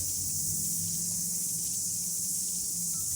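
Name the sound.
cicadas buzzing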